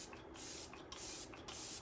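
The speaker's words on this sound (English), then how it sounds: "we're going to go in with the Let It Set finishing spray" Arbonne Let It Set finishing spray misted from a pump bottle in three quick bursts, each a soft hiss lasting about half a second, close and fairly quiet with no talking.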